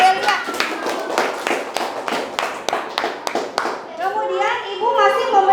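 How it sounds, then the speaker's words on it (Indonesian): A classroom of students claps for a student group, with sharp, uneven bursts of applause and children's voices rising toward the end. "Tepuk tangan"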